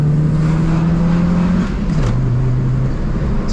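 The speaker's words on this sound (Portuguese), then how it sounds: "Ó, vamos ver se passa a marcha rápido." A car with a ceramic clutch drones steadily under acceleration, then its engine pitch drops abruptly on a quick gear change and settles into a lower, steady hum, loud and close inside the cabin.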